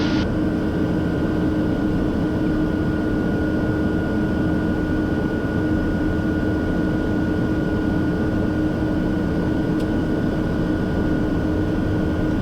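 A TBM 700 turboprop airplane rolls onto the runway for takeoff, its engine giving a steady, loud drone with a constant high whine, heard from inside the cockpit.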